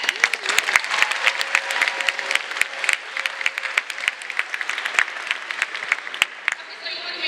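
Theater festival audience applauding after a keynote address at a thespian gathering, a dense steady wash of many hands clapping with scattered sharp individual claps, a few brief cheers and voices mixed in, sustained throughout.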